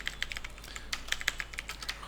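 Someone types steadily on a computer keyboard, with quick close clicks in an uneven rhythm over a low steady hum and no talk.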